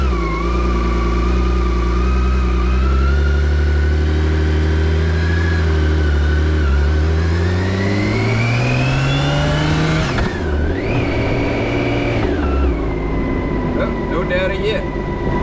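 A BMW K1600GT motorcycle engine runs loud and close as the bike begins to roll, with rising and falling revs through the gears and a brief dip around the middle. Talk can be heard over the engine.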